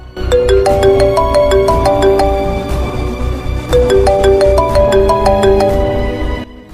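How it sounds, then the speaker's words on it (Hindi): A melodic electronic ringtone plays loudly, a repeating chime phrase looping twice without pause, then cutting off abruptly. "अरे ये अब जोकर का फोन क्यों आ रहा है?"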